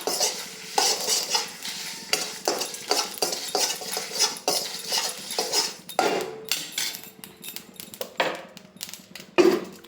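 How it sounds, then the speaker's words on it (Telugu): Sesame seeds crackle and pop while roasting in a dry pan as a utensil scrapes and stirs repeatedly, a steady clatter of small clicks with no talking. "చూడండి నువ్వులు అయితే చిట్టపట్ట అంటున్నాయి కదా"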